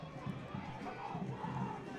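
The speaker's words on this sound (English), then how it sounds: "You can tell we're in Sinton as that crowd doesn't like that call." A stadium crowd at a high school football game in Sinton, in the third quarter, lets out a sustained low groan of disapproval at a referee's call, a dense rumbling mass of voices with no clear individual speech.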